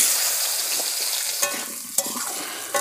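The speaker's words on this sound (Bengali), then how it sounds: "এই আলুটা আমি একটু তেলে ভেজে নিচ্ছি।" Potato pieces coated in salt and turmeric frying in hot oil in a pan, a steady close sizzle with a few sharp scrapes and clinks as they are stirred.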